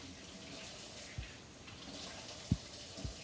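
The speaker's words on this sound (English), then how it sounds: "There you go. Nice hot water." Hot water runs steadily from a tap for hand washing, a soft, broad hiss throughout, with a few faint low thumps from hands or the basin.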